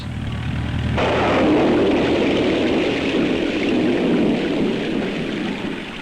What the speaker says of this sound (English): We really did get rained out.